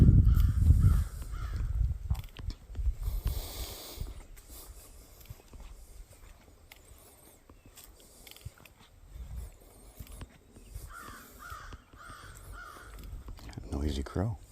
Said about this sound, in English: Noisy crow.